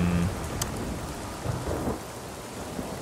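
Rainstorm in the Spider-Man 2 video game, with steady rain hissing across surfaces and a low rumble of thunder rolling underneath, continuous and fairly loud throughout with no voices.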